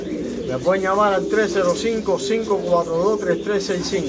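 Cuban breed pigeons, pairs of black, white and corbato birds, coo repeatedly in throaty rising calls close by while someone talks over them.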